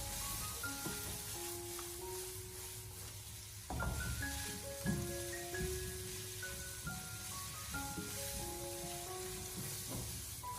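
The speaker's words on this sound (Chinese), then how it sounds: "这时候再开大火给它快速的翻炒一下，把它翻炒均匀" Minced pork and green peas stir-fry in a wok over high heat, a soft, steady sizzle crackling under background music, with no one talking.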